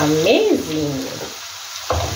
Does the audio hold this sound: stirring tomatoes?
yes